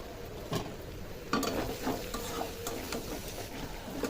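Bamboo shoots and prawns being stir-fried with spices and tomato, giving a low steady sizzle broken by a few scraping stirs of the pan, fairly close and with no voices.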